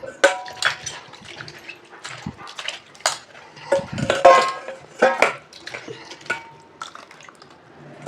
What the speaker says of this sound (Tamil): இப்போது இதில் கொஞ்சம் தண்ணி விட்டு இன்னொரு முறை நல்லா அலசிக்கலாம்.